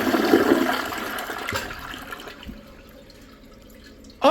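A Toto Drake II toilet flushes with its handle held down: a loud rushing flush for about two seconds, then a quieter trickle of bowl refill, and a brief splash at the end.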